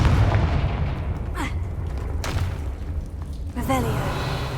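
Confringo fire spell going off in Hogwarts Legacy, heard as a string of booming thuds and whooshing bursts over a heavy low rumble, with a short pause before a final fiery burst.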